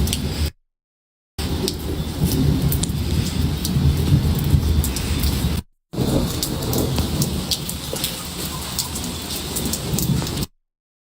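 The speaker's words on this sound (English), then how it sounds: "We've got thunder and lightning now." Thunderstorm with rain during Hurricane Beryl, a steady close roar of rainfall mixed with low thunder rumble, cut by two brief silent dropouts.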